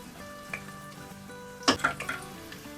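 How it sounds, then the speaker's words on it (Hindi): Coarsely chopped medium onions sizzle and crackle in hot oil in a home kitchen, with a steady fry under a low hum and a few sharp clinks of a spoon stirring the pan. "प्याज को भी मैंने हल्का सा फ्राई करना है, ब्राउन बिल्कुल भी नहीं करना"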